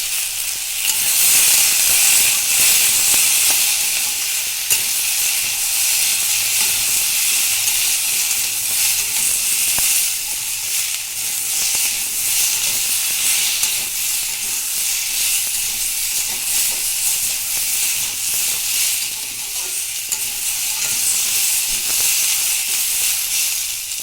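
Green chilli, tomato and spices for a Bengali fish curry sizzle steadily in hot oil, a dense, continuous frying hiss that stays loud and even throughout, with occasional faint stirring and no voices.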